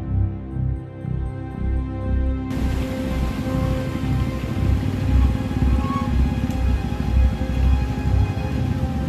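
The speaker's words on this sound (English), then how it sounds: "It has been raining in Bangkok since 3 p.m. till now." Heavy rain pours down during street flooding in Bangkok, a dense, steady hiss close by that thickens after a few seconds, with traffic rumbling underneath.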